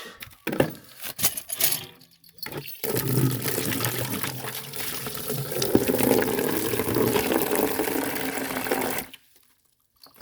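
Water runs steadily into a pet's bowl for several seconds, beginning after a few clunks and knocks, then stopping abruptly into silence.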